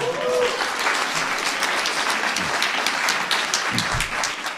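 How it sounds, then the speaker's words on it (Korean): A studio audience at a live political talk show gives a guest sustained, dense applause, steady and fairly close throughout. "오늘 이렇게 박수를 받는다는 게 제가 원했던 게 아닙니다"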